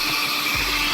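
Vacuum cleaner sucking crumbling old insulation, dirt and dust out of a car, a loud, steady roaring whoosh filling the short moment with no talk.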